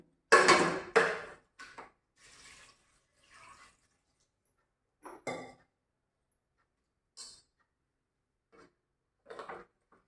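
Pots, a pressure cooker and utensils clink and clatter as washed rice goes into the cooker, a few loud knocks first and then scattered, softer metallic taps separated by pauses.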